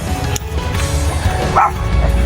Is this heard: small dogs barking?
yes